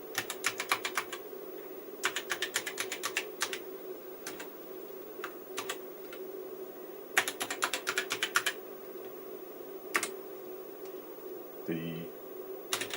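Typing on a NASCOM 1 computer keyboard, bursts of rapid close key clicks separated by pauses over a steady electrical hum, with a voice speaking briefly.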